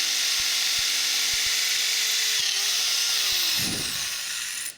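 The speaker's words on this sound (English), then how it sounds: "I'm going to use a 5/16 drill bit to widen out this hole a little bit here." A power drill fitted with a 5/16 bit widens an existing bolt hole for a headlight mount, spinning at high speed with a steady close whine and a few light ticks before winding down at the end.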